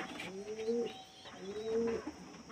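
Domestic pigeons cooing close by, two drawn-out rolling coos about a second apart over a faint background hum.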